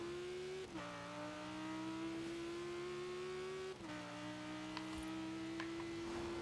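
A car in Forza Horizon 4 cruising onto a highway, its engine holding a steady tone that climbs through the gears with two clear upshifts, loud and alone without talk.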